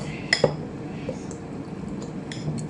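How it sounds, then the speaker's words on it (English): A spoon clinks against a bowl as a tablespoon of flour is stirred into a mixture for stuffed cabbage, a couple of sharp taps early on followed by soft scraping and stirring. "I'm just going to mix that, and I'm going to leave that to stand."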